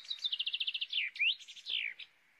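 A small goldfinch chirps alone in a quick run of bright repeated notes, then slurred whistles and trills, close and clear.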